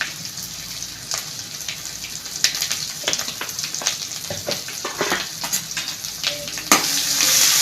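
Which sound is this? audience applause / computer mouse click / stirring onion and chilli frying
stirring onion and chilli frying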